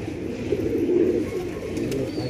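Pigeons coo in a soft, continuous, rolling murmur close by, steady for a couple of seconds with no voices.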